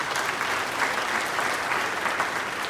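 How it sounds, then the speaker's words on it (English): Audience applause at a 2018 Michigan gubernatorial debate, a steady, dense wash of clapping from a large crowd that holds at an even level throughout with no speech over it. "Round of applause for Christy."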